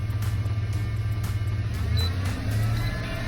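A 1993 Ford F-150 engine idles with a steady low rumble, close and even, without revving.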